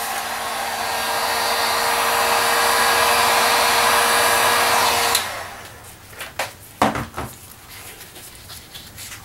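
A heat gun blows hot air on craft foam to reshape it, a loud steady whoosh for about five seconds that cuts off, followed by scattered light handling taps and thumps.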